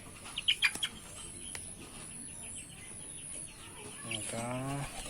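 Chickens in a backyard coop after a flood, a few sharp clucks and chirps early on, then someone talks in the later part over faint bird sounds.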